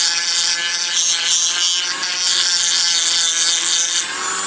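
A Dremel 8220 12-volt cordless rotary tool sands with a sandpaper attachment while sharpening a knife or scissors, giving a loud, steady, close whine with harsh abrasive rubbing that dips briefly and drops slightly near the end.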